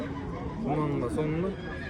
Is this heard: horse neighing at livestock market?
yes